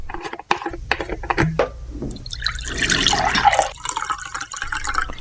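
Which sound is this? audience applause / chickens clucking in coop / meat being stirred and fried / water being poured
water being poured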